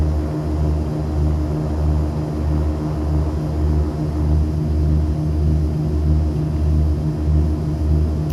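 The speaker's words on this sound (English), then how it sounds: "you can't argue with the sound of a turboprop. Just listen to those bad boys humming back there" Twin turboprop engines of a 690B Turbo Commander in the X-Plane 11 flight simulator drone on in a steady, even hum with a low throbbing pulse, continuous and alone throughout.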